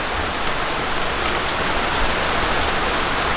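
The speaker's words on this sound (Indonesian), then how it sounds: "Udah musim hujan. Biar tiap sore hujan terus." Steady, loud rainfall during the Indonesian rainy season, a constant hiss of drops hitting surfaces that holds evenly throughout with no voices or thunder.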